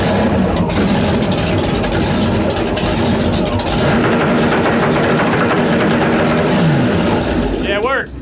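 A drag car running E85 fuel at Drag Week 2022 roars loudly and continuously with its throttle stuck, the engine revving high throughout with voices partly audible over it.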